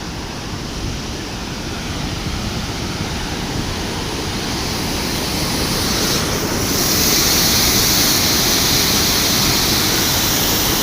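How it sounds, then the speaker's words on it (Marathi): Water from Takali dam on the Shivna river rushes out in a steady, loud, broadband roar that grows somewhat louder toward the end, with no talking. "सध्या पाणी चालू आहे"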